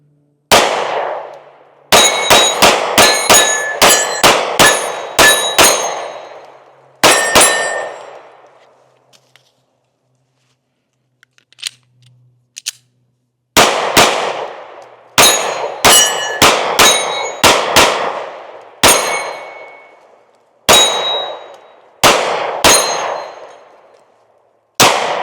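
Taurus GX2 pistol firing at steel targets outdoors, loud sharp shots each followed by a ringing metallic clang, fired in quick bursts with a silent pause midway, no talking.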